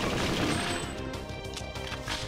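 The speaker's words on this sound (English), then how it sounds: "Oh my god, their gun is so strong." Enemy gunfire from a strong gun on an air base in Perfect Dark, sounding as a dense, steady rattle of rapid shots for a couple of seconds at moderate loudness with no talk.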